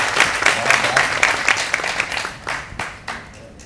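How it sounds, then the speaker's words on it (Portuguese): A small crowd applauds warmly after a poetry reading, steady clapping that gradually thins out toward the end. "uma salva de palmas para o nosso amigo"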